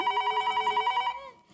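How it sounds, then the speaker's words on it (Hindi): A telephone bell rings in a home setting, a fast, steady electronic trill lasting about a second before it cuts off, loud and close, with no talk over it. "फोन आया।"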